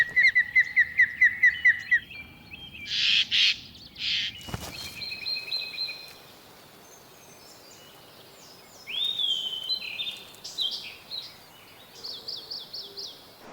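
Jays give sharp, repeated calls in a forest while mobbing an osprey, a run of quick clipped notes followed by harsher bursts and a later flurry of squawks, loud and close with quiet gaps between.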